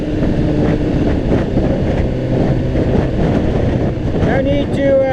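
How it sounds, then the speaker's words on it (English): Steady roaring wind buffets a rider on a Honda CBR600RR motorcycle in windy conditions, a loud continuous rush mixed with engine drone, with brief faint voice near the end. "I'm just countering as the wind hits me."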